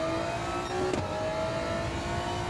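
A GR2-class racing car engine in a sim racing game holds a steady, moderately loud drone with a whining tone, broken by one brief sharp transient about a second in.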